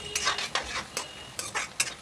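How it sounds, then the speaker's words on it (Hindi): Spiced potatoes with green chillies and garlic fry in a pan, heard as a close series of scraping stirs and clinks against the metal over a soft sizzle, with no talking. "अच्छे से इसको फ्राई करेंगे।"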